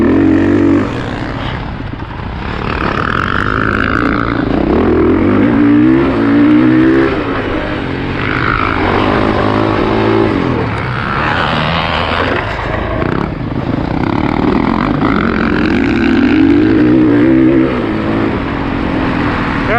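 A 2021 Honda CRF450R dirt bike engine runs close up while riding, its loud, continuous drone rising and falling as the throttle opens and eases off throughout, with no talking.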